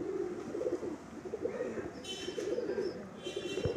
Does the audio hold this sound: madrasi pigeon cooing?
yes